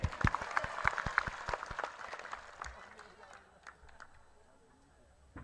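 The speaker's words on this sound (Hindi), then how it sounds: "चलो बजाओ ताली इसके लिए।" Crowd at a public political rally in Hatpipliya claps in a loud burst of applause at the start, thinning into scattered claps and murmuring as it fades out.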